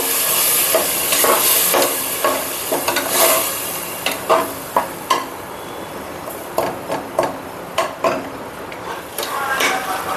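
Coconut milk simmers in a pan over softened masala, tomato and onion, a steady close hiss and sizzle with intermittent scrapes and clinks of stirring against the pan.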